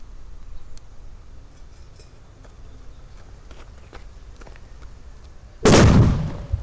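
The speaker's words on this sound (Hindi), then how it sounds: "अब टेस्ट करते हैं इस वाले लोकल सोतली बम को इसके साथ" A local sutli bomb firecracker bursts under a bowl outdoors, one sharp loud bang near the end after a stretch of quiet background with faint ticks.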